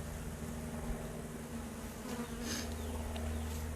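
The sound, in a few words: honey bees buzzing around a beehive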